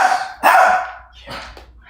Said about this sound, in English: Your bark is so loud and strong.